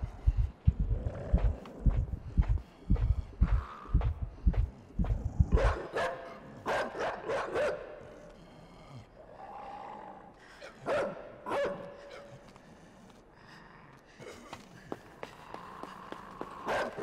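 In the video game Inside, a dog barks in a close, loud burst of rapid repeated barks during the first few seconds, followed by scattered thuds, footsteps and quieter game sounds.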